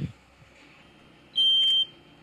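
A smoke detector sounds during a room fire test, one loud shrill high-pitched beep of about half a second standing out over a quiet background with faint crackling.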